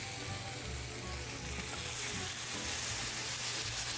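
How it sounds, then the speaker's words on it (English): Sage leaves toast in a hot pan in a restaurant kitchen, giving off a steady, close sizzle with a bright, even hiss throughout and no talking. "Just gonna give that sage a little bit of a toast."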